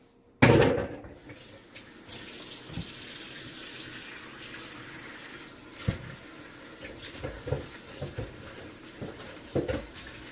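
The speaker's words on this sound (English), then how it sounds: "I gotta wash this bowl" A bowl being washed under a running kitchen tap while making sourdough bread: a sharp knock, then a steady splashing stream of water with intermittent clatter and sloshing as the bowl is rinsed, close by.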